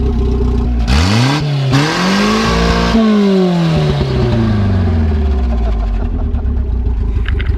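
1981 Toyota Corona Wagon engine running open header exhaust, revved in several sharp bursts that climb and fall before settling back to a rough idle, loud and close.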